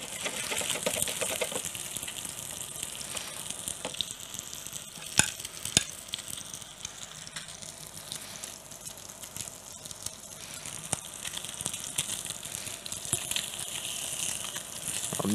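Sea bass coated in sesame seeds fries in a pan with a soft, continuous sizzle, joined now and then by faint clicks and scrapes as a utensil loosens the fish from the bottom.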